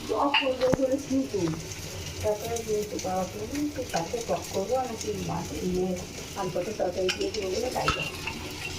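Food sizzles and is stirred in a pan in a home kitchen, while a voice talks over the cooking in Bengali.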